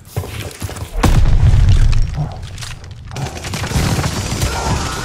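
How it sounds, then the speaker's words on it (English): In a Call of Duty team deathmatch match on PS5, a grenade goes off with a loud, close boom about a second in, followed by rumbling debris and scattered gunfire that continue at a lower level. "Incoming grenade!"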